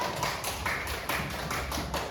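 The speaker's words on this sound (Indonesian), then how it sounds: "Tepuk tangan dulu dong." A group of children claps in a classroom-style session, giving a few quick rhythmic bursts of hand claps close by, loose and uneven, with no talking over them.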